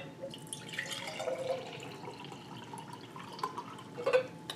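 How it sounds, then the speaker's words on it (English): Water poured into a container to mix an MRE Tropical Punch drink powder, a soft steady trickle with light dripping and a few brighter splashes near the end, close and fairly quiet with no talk. "And I'm going to pour what I think is about 12 ounces."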